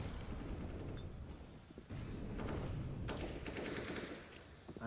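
Pistol gunfire crackles in a Counter-Strike match at Katowice 2023, rapid bursts of shots in quick succession, faint and somewhat distant under commentary-style talk.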